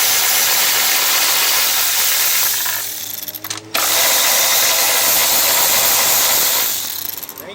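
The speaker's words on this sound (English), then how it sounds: "Alright, so I got my Milwaukee M12 ratchet, 10mm socket. Make quick work of these." A Milwaukee M12 cordless power ratchet with a 10mm socket whirs loudly and steadily up close while backing out lawn mower recoil housing bolts on a Kohler Courage engine, cutting out briefly once before spinning up again.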